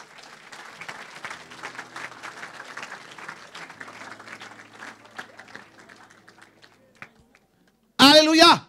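A church congregation applauds at length, a dense wash of clapping that gradually thins and fades out, followed by a short loud voice at the end.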